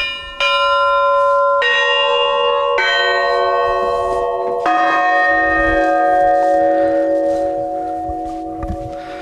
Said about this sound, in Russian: и дети, и взрослые в Пасху могут звонить в церковные колокола до самого утра